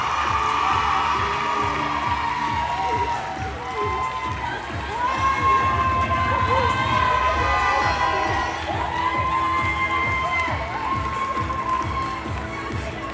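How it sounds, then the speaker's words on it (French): Crowd at the Mister France 2026 final results ceremony cheering loudly with shouts and clapping, a sustained roar over music lasting the whole stretch. "je vous demande d'applaudir Tanguy"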